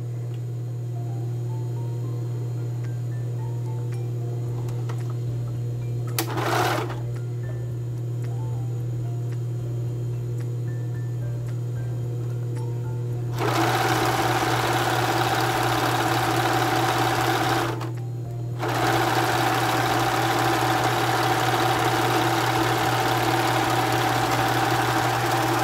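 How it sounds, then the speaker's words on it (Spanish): An electric sewing machine runs steadily as it stitches embroidered lace for men's underwear, with a constant hum, a brief pause and a long continuous run, close and clear with no talking. "Luego voy a coser el tiro del trasero."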